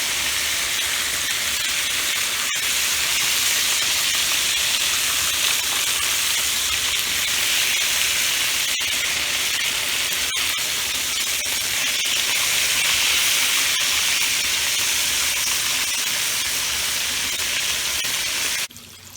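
Pieces of liver sizzle steadily in a hot frying pan for Southern smothered liver and onions, a loud continuous hiss with a few brief pops, close by and with no talking.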